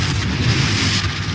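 A Confringo blasting spell goes off in the Hogwarts Legacy video game, a loud continuous booming blast with heavy low rumble and a bright crackling wash that carries on steadily for the whole moment, with no voices.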